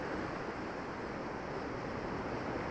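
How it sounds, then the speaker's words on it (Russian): Large storm waves on the sea at Yalta in November, a continuous dense roar of surf with steady wind noise, loud and unbroken, no voices. "Там впереди тоже сейчас большие волны."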